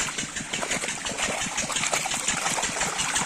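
Irrigation water flowing through a field channel into a rice paddy in a village, a continuous close gurgling trickle and splash, steady throughout with no voices.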